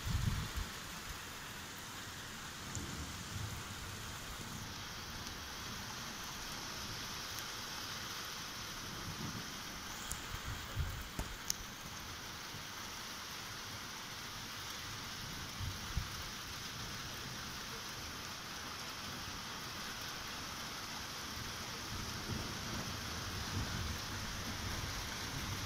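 A heavy thunderstorm over Doniford Bay in Somerset, with steady, dense rain hissing throughout and low thunder rumbling faintly beneath it.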